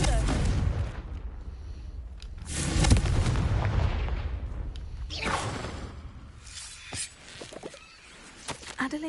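Fiery spell blasts from the Confringo curse in Hogwarts Legacy, a loud whooshing burst near the three-second mark followed by later cracks and booms over dense game ambience, with voices speaking at points.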